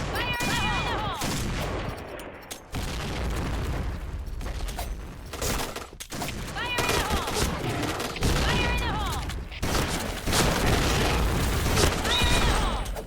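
Cerberus shotgun firing in rapid succession in the video game Point Blank, heavy booming blasts in quick runs with brief pauses, loud and close, mixed with other game gunfire and effects.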